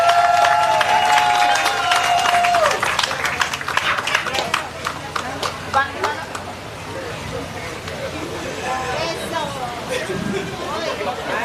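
A crowd claps and cheers loudly while a voice talks over the noise, with the applause gradually easing into a busy hubbub, at a carnival royalty ceremony in Aruba.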